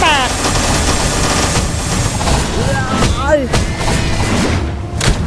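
Gunfire in the creature-collecting game Palworld: rapid bursts of shots rattle over busy game sounds, with a voice talking throughout.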